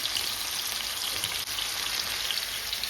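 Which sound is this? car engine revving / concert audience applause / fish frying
fish frying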